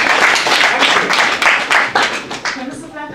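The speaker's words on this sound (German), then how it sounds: "Applaus." A convention panel audience claps vigorously in quick bursts, close and loud, with a voice briefly heard as the applause fades.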